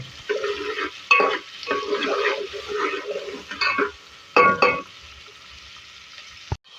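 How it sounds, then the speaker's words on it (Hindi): Three medium onions fry in oil for beef keema, stirred in rough bursts, so loud scraping and sizzling surges alternate with short lulls, ending in a sharp knock. "प्याज डालने के बाद इसको अच्छी तरीके से फ्राई करेंगे"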